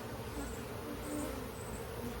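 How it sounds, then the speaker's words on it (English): A dense crowd of honey bees buzzes steadily inside a booming hive, a continuous close, even drone with no pauses or voices. "just look at the bees. There's so many."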